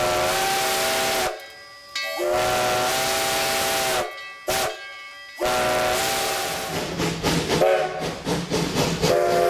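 A steam locomotive gives repeated loud whistle blasts with hissing steam, broken by short gaps, followed by rhythmic chuffing and rail clatter as the train moves off, with no voices.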